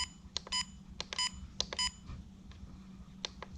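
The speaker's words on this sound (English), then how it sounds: "beep sound. Yeah, let's get rid of that." An Apeman H55 trail camera gives a rapid run of short, high electronic beeps, spaced irregularly and fairly quiet, with no voices over them.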